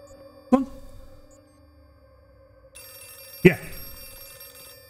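In Outlast 2, a telephone gives two sharp rings about three seconds apart. Each ring decays into a resonant tone over low background noise, and a voice is faintly audible beneath.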